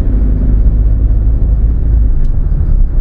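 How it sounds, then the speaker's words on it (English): A 2014 Mahindra Scorpio SUV engine drones steadily while driving on the road, a loud, constant low rumble with road noise and no talking. "the engine sound is also such, you will feel like, whoa, you are driving like so much powerful car"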